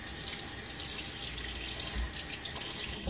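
A kitchen or bathroom tap runs a steady stream of lukewarm water to soak a puck of Williams mug shaving soap, giving a constant close hiss and splash with no breaks.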